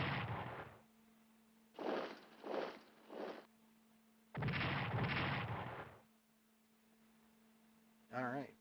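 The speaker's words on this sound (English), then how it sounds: "defensive artillery helping out there" Artillery bursts in the WW2 strategy game Strategic Command: War in the Pacific, a few loud booming clusters separated by quiet gaps, over a steady low hum, with a short warbling game effect near the end.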